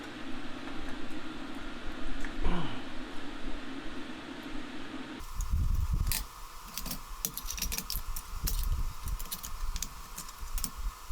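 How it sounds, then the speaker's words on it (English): An electric fan runs in a hot garage during crash repair work on a Dakota, giving a steady broadband whir that shifts partway through to a rougher noise with scattered clicks and knocks. "Sorry about the fan noise."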